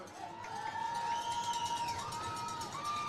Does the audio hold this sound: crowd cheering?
yes